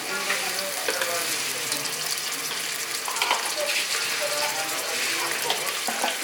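Onions fried until lightly reddened, with spices and garlic paste added to the pan, sizzling in a steady, dense hiss with faint scraping clicks throughout, close and continuous with no talk over it.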